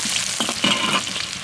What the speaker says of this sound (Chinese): 锅里倒点油，油后下入葱姜蒜末干辣椒